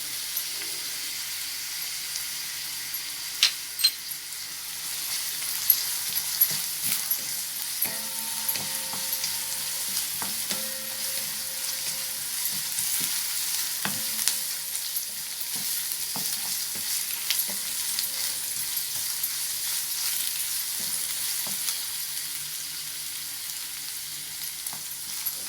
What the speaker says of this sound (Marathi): कांदा थोडा गुलाबीसर परतून झाल्यावर आलं लसूण पेस्ट घालू.